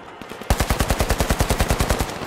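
Gunfire in the video game The Finals, a fast, regular string of around twenty loud, punchy shots after a short quieter lead-in, heard alone without talk.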